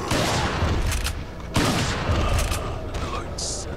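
Shotgun blasts in the video game Resident Evil 4, two loud booming shots about 1.5 seconds apart, each with a sharp crack and a rolling tail, set among game ambience and muffled noise.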